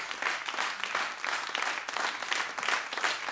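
After a jazz concert, the audience applauds the performing duo, a soft but lively spread of clapping that swells and dips in uneven waves throughout.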